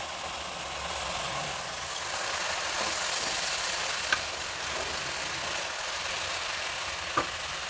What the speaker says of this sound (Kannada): ಅಕ್ಕಿನ ತೊಳೆದಿಟ್ಕೊಂಡಿದ್ದೀನಿ, ಅದನ್ನು ಹಾಕ್ತಾಯಿದ್ದೀನಿ.